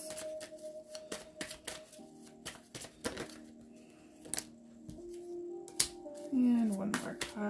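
Tarot cards are shuffled and drawn during a live reading: quick papery riffles and crisp snaps in irregular bursts, close and fairly quiet, with a person talking between them.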